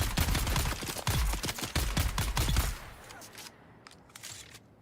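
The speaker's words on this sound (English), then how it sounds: "Sniper that most people like is triple burst with no scope and just a little bit of recoil" Rapid gunfire from a triple-burst sniper rifle without a scope in the Dune Awakening video game, loud close shots in quick bursts for almost three seconds, then quieter scattered pops and clicks.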